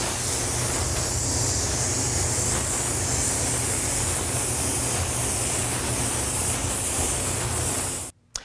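A spray gun lays a first coat of clear over black number graphics on an auto finish, giving a steady, loud, close hiss that holds for about eight seconds and then cuts off abruptly.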